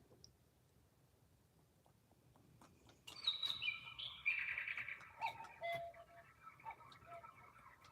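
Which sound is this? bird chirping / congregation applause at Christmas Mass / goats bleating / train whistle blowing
bird chirping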